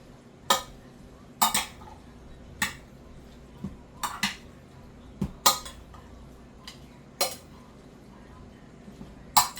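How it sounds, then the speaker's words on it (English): Meat for baked ziti being mixed and incorporated in a metal pan or bowl, with a run of sharp clinks and scrapes from a utensil against the dish, spaced irregularly and close. "I take my meat and I'll mix it all up, incorporate it really well."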